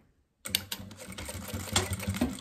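A sewing machine starts abruptly and runs in short fast bursts of needle clatter while backstitching lining fabric for a small zippered pouch, close and fairly loud.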